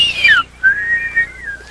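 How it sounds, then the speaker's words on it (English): Whistling from a group trying to whistle during an experiential education activity: a clear descending tone, a short gap, then a longer wavering whistle, close and fairly loud. "on 3, everybody try to whistle and see what happens"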